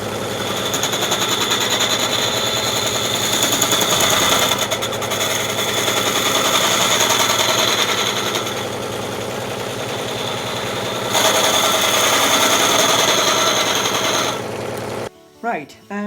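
A wood lathe spins a piece being hollowed with a scraper, a loud steady whirring drone broken by rough chattering bursts as the tool meets the wood, close up, stopping near the end.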